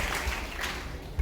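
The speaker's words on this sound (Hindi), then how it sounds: "कंपनी के लिए जोरदार ताली होना चाहिए।" A crowd at a company promotion meeting gives a short burst of dense applause, many hands clapping together at moderate distance.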